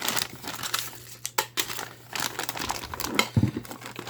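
Packing tape being ripped off the cardboard box of a Kicker 800-watt class D car amplifier, a series of close crinkling and tearing bursts with short pauses between pulls.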